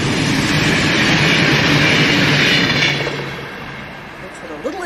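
A train rolling past on nearby tracks, a loud sustained rumble and rattle of wheels and cars that fades toward the end, with a faint squeal.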